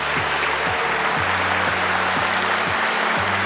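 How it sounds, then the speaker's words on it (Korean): Applause from an audience at a public government briefing event, a dense, steady wash of clapping under a repeating low tonal sweep of background music. "박수 부탁드립니다"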